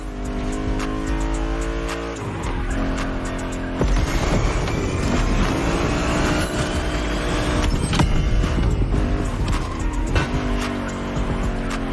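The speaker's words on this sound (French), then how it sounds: "La Ferrari 308 GTS." A Ferrari 308 GTS engine drones under load in The Crew Motorfest in Hawaii, a continuous loud rev with rising and falling pitch and occasional tire squeal, no talk.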